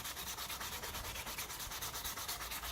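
Steady back-and-forth rasp of sandpaper rubbing a surface, rapid regular strokes, close and fairly quiet.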